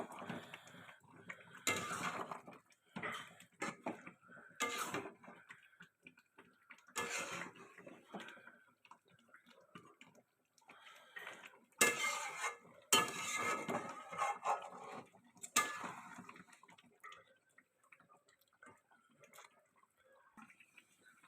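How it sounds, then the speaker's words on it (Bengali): Chicken curry with garam masala stirred in a pan: scattered bursts of a utensil scraping and clinking against the pan, with quiet gaps between strokes. "গরম মশলা অ্যাড করে দিলাম, ভালো করে একটু নেড়ে দিই"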